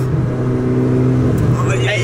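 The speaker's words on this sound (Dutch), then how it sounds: "Wie kan nou zeggen dat hij in een Ferrari 458 speciaal op het circuit heeft?" A Ferrari 458 Speciale drives on a race circuit, its engine a loud, steady drone heard from inside the car, with people talking over it throughout.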